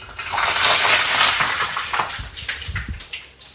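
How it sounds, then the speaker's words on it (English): Parboiled potatoes frying in hot oil for a spicy potato curry, giving a steady broadband sizzle and crackle that stays loud throughout, with a few low knocks near the end. "I am going to very quickly fry them until they are lovely and golden."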